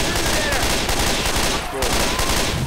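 Rapid gunfire rattles constantly in a Left 4 Dead 2 Special Delivery mutation round on The Parish, loud and dense from start to finish with game noise layered underneath.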